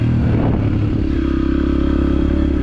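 A dirt bike engine running hard and steady on back roads, a loud continuous close-up drone with a buzzing rhythm that holds throughout.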